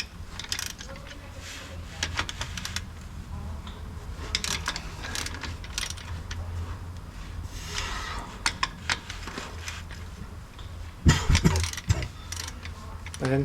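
Someone removes loose 13mm screws from a balancer with a 13mm hex tool during transfer case work on a 1993 Ford Explorer, giving repeated close ratcheting clicks and metallic rattles in bursts, with a louder clatter near the end.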